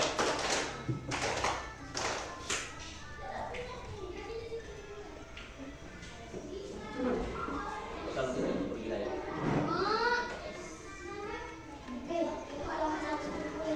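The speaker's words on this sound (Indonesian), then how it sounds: "Tepuk tangan semuanya." Schoolchildren in a religious studies class clap their hands together in sharp bursts, mixed with children's chatter and a teacher speaking, rhythmic claps clearer near the start.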